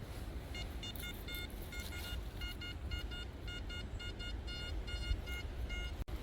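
Repeated electronic beeps from a metal detector swept slightly above the ground while searching a field, a series of short, clear tones in an irregular rhythm over steady low background rumble.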